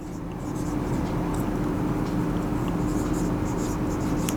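Chalk or marker scratches on a board during a geography lecture, faint short strokes repeating under a steady room hum and background noise.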